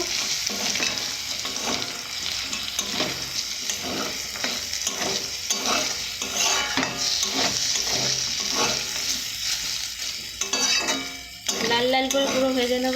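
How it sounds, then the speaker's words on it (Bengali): Meat with fennel seeds frying in a pan for singara filling, a steady close sizzle broken by repeated scraping stirs of a utensil against the pan, with a brief clatter near the end. "মাংসটা আর কিছুক্ষণ ভেজে নেবার জন্যে লাল লাল করে ভেজে নিয়েছি"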